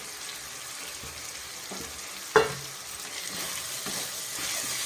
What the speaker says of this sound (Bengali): এবার আমি ডুমুর আর আলুর টুকরোটা দিয়ে দিলাম